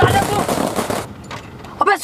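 A burst of rapid gunshot sound effects in a comedy skit, a loud crackling volley that cuts off abruptly, followed by a voice speaking briefly.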